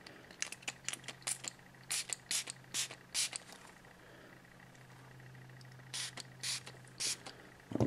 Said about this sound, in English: move the device over, spray it in my hands